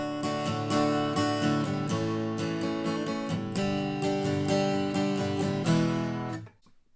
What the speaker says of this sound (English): So if I play those in sequence the way I hear it on the album,